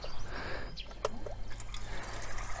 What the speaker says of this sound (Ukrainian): Водичка тече зразу.